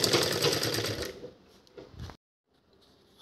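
A sewing machine runs a quick burst of stitching along a folded shopping bag, loud and close for about a second, then stops, leaving small clicks and handling noises before a brief restart.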